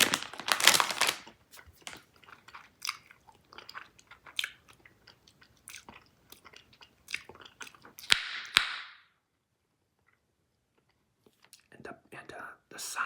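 Close, quiet chewing of Big League Chew bubble gum, with scattered sharp pops and crackles and a few whispery breaths, pausing briefly near the end before the smacking resumes.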